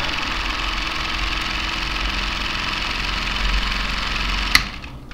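A small electric two-piston engine hums and knocks steadily near 1600 RPM, running loud and close with a low vibrating drone, then a sharp click as it is switched off and the sound quickly winds down.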